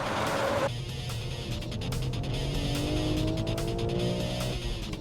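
A sports car, a new BMW M3 lapping a circuit, slides with a sustained tire squeal over a strained engine note that climbs in pitch, loud and close for several seconds.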